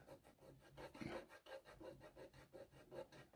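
A small detail part being rubbed down onto the body of a Tamiya King Hauler model truck, a quiet close rasping scrape repeating in a steady back-and-forth rhythm for a few seconds.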